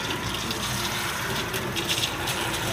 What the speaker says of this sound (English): All that muddy water.